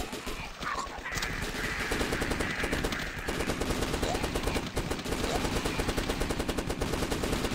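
Rapid, sustained automatic gunfire from a gun in the video game The Last Stand rattles loudly and continuously in dense bursts, with a brief dip near the start and a voice faintly underneath.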